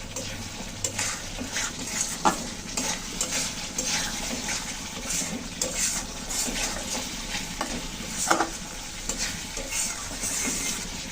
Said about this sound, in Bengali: মশলাটা ধীরে ধীরে সুন্দর করে কষাতে হবে